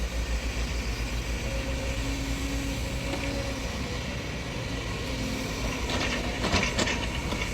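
Two SANY SY excavators, an SY215 and an SY204, moving soil on a farm plot, a steady low diesel engine drone with faint clanks and a brief rise in hydraulic whine near the end, no talk.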